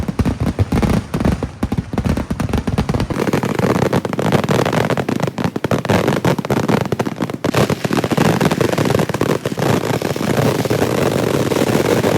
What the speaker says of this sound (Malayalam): ആന കാവ് കയറിയ ഉടനെ തന്നെ അതാ വെടിക്കെട്ടിനും തീകൊളുത്തി കഴിഞ്ഞു.